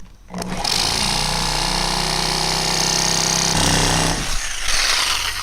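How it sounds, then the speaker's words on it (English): A reciprocating saw roars loudly and continuously, cutting through a metal screw with a harsh buzzing tone that shifts partway through before winding down. "So here's the Sawzall."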